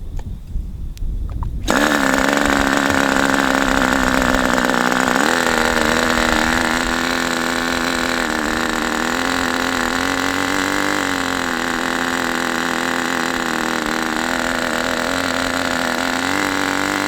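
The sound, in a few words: Raduga 10RU model engine running at mid-throttle, rich setting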